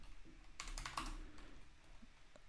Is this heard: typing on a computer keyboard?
yes